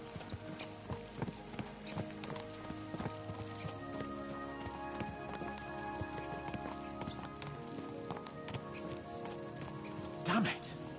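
Horses galloping in Kingdom Come: Deliverance 2, a steady rhythmic clip-clop of hooves on the ground with a brief whinny near the end, under game ambience and voices.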